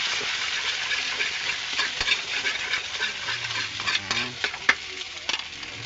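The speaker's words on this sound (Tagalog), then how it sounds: "Yan, mainit na siya. Lagyan natin ng itlog. Yan. Halo-halo natin." Egg is stirred in a hot pan for garlic fried rice, with a constant sizzle under repeated spatula scrapes and a few sharp metallic clinks, heard close.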